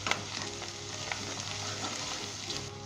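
Spices and salt being stirred into pumpkin curry in a pan, a quiet steady sizzle with soft scraping strokes of a spoon at close range and a low hum underneath.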